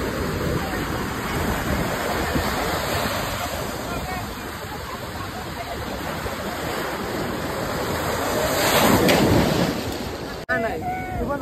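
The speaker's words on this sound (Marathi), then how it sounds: "चला तर मग फायनली जाऊया गणपतीपुळेच्या असणाऱ्या समुद्रामध्ये" Sea waves at Ganpatipule beach wash in as a continuous roaring surf, swelling louder toward the end before a sudden drop, with wind-like hiss throughout.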